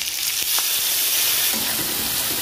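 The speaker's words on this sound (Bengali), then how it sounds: "এই মশলাটা ভালো করে কষে নেবো।" Spice paste of turmeric, chili, cumin and coriander powders with a little sugar fries and is stirred in hot oil for a vegetarian Bengali potato and pointed gourd curry, giving a loud steady close sizzle with faint scraping stirs.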